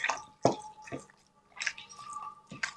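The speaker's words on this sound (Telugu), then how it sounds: "ఇప్పుడు పేస్ట్ చేసిందంతా చికెన్కి మంచిగా మసాజ్ చేసుకుంటూ బాగా కలపండి." Chicken being mixed by hand with an oil-loosened marinade paste for biryani, heard as wet squelching and squishing pulses in an uneven rhythm, close and soft.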